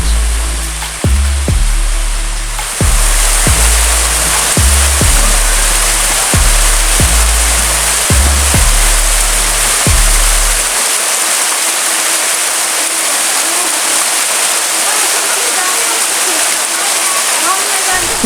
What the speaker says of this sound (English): There is a series of waterfalls going all the way up.